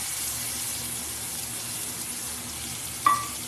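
A spice mixture meets a hot pan and sizzles in a steady, close frying hiss, broken near the end by a single sharp metallic clink.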